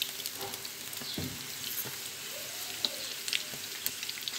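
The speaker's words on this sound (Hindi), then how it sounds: "इस तरह इसको हम फ्राई करते रहेंगे। इस तरह हिला कर इसको लाइट ब्राउन सा करना है।" Chicken pieces for chicken Manchurian frying in a pan, a soft continuous sizzle broken by a few scraping stirs and light clinks.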